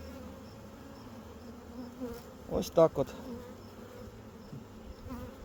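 Honeybees from a package colony installed frameless in a Langstroth-type hive buzz softly around the hive, a steady low hum with a brief louder swell near the middle as a bee passes close; someone speaks a few words.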